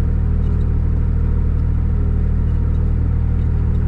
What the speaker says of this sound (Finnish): kyllä se suttii tyhjää tämänkin koneen pyörät